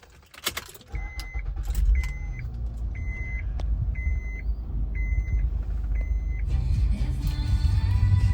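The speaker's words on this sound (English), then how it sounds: "Turning on the car." A Honda Pilot is started: keys jangle close by, then a reminder chime beeps about once a second, and the engine catches and settles into a steady idle. No one speaks.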